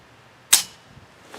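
A single sharp, loud report from a WBP Beryl style AK rifle fired at an outdoor range, a sudden crack with a short fading tail and quiet around it.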